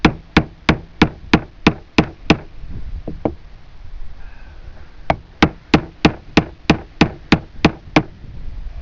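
A hammer drives nails into a wooden shed door with sharp, loud, evenly spaced blows, a run of about eight strikes, a couple of lighter taps and a pause, then a second run of roughly ten strikes.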